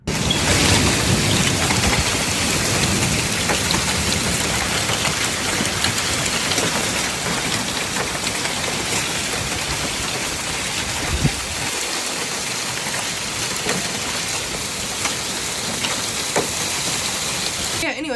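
Heavy British rain pours in a steady, dense hiss that fills the whole scene, loud and continuous with faint scattered drops and no pauses.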